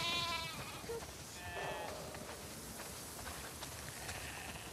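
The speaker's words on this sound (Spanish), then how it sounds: "¿cuántas ovejas?" Sheep bleating in The Last of Us Part II, several wavering bleats near the start and middle over a faint, continuous ambient background, quiet overall with no speech.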